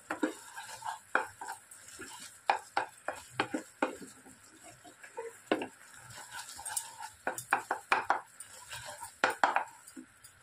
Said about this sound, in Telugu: ఇలాచీ ఫ్రై వేసుకొని మొత్తం అంతా ఇలా కలుపుకోవాలి.